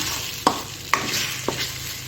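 Three eggs fry in a pan for egg bhurji with a soft, steady sizzle, broken by three sharp taps of a spoon stirring against the pan.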